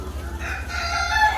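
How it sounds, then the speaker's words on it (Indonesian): Chickens on a laying-hen poultry farm give a drawn-out, crowing-like call, close and fairly loud, over a steady low hum. "Ini ayam yang udah nggak akan bertelur itu seperti ini loh."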